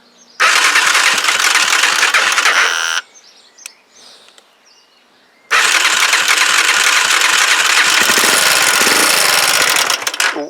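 A Huoniao HN125 motorcycle engine starts and runs loud and rattly in two bursts, separated by a few seconds of near quiet with faint clicks, the second run lasting about five seconds before cutting off.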